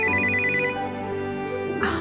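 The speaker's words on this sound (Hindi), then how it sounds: "हरलीन का फोन" A phone ringtone rings loudly and close, a steady electronic melody that repeats for about two seconds with no one speaking over it.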